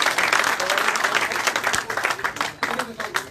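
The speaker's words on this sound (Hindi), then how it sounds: "जोरदार तालियों से स्वागत करें" Loud, vigorous applause at a party gathering welcoming new members, many hands clapping in a dense rhythmic burst with voices mixed in beneath.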